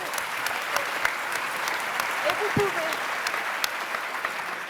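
Sustained audience applause at a conference session on values for tomorrow's society, an even wash of many hands clapping at moderate level, with a brief vocal sound partway through.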